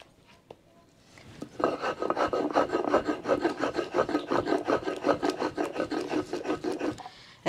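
Onion pieces ground by hand on a stone for tomato salsa, a close, rhythmic rasping rub repeating steadily for several seconds with no talk.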